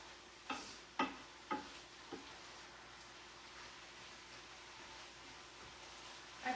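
Onions cooking in an evenly heating pan give a steady low sizzle, with a few sharp utensil taps or stirs near the start.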